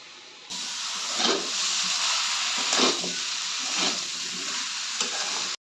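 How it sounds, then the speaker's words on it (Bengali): Boiled jackfruit and fried prawns stir-frying in a wok for a Bengali curry: a steady loud sizzle and hiss with periodic swells as the spatula stirs, no voices. "আগে থেকে সিদ্ধ করে রাখা এঁচোড় ও ভাজা চিংড়ি মাছটা কড়াইতে দিয়ে দিতে হবে"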